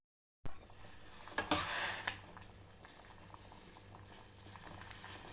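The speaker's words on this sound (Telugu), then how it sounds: "శనగలు ఇలా ఉడికాయి చూడండి." Chickpeas boiling in water in a pot on the stove, a soft bubbling patter that starts with a few louder pops and then settles into a faint, steady simmer.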